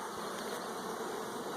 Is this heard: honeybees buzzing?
yes